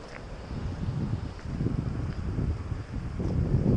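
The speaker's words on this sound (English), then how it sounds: "Is that just wind going through the trees?" Steady low rushing wind blowing through trees with gusty swells, a continuous outdoor roar close to the microphone, no voices.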